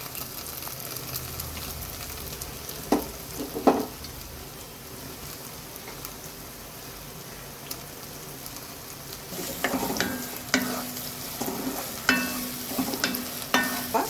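Masala for an anchovy fish curry sizzles and crackles in a pan under repeated scraping stirs, with sharper spatters and utensil knocks building toward the end.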